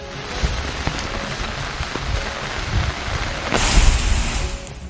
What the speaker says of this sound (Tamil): மழையானது தொடர்ந்து பெய்து கொண்டுதான் இருக்கிறது.